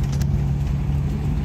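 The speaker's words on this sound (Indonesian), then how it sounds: "Bisa dilihat towing mobil saya di depan sana." Car engine idling close by, steady low rumble with faint crackle, near a tow truck hauling a BMW E36 323i; no talking.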